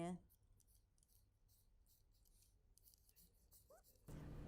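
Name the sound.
scissors cutting a sewing pattern piece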